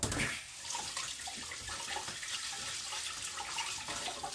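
Semi-brown rice is rinsed under running tap water, a close, steady rush and splash of water that continues throughout, with no voices.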